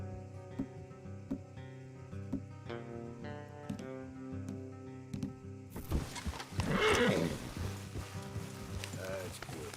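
A horse in Red Dead Redemption 2 whinnies amid clip-clopping hooves and a crackly outdoor background, with gear and movement sounds close by.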